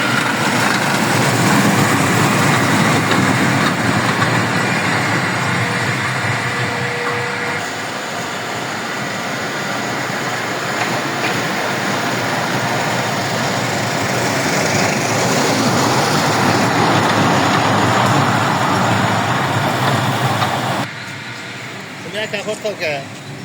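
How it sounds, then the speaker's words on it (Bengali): A small children's toy train runs at an amusement park with a continuous rumbling, rattling roll that stays steady throughout, mixed with crowd chatter and people talking nearby before it cuts off near the end. "এই পাশে আবার ছোট বাচ্চাদের জন্য খেলনার ট্রেন আসতেছে।"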